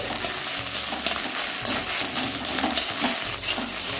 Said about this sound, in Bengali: তো এদিকে দেখো ডিম ভুজিয়াটা ভাজা হয়ে গেছে, টুকরো টুকরো করে নিচ্ছি